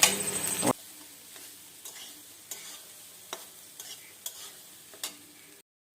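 Fried rice is stirred in a pan at night: after a short loud burst, a quiet low sizzle runs on with spaced spatula scrapes and knocks against the pan, close by.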